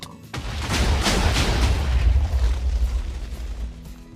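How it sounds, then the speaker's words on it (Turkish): A sudden deep boom of a Minecraft explosion erupts, then a rumbling roar that slowly fades away over a few seconds. "Her şey bir anda patladı."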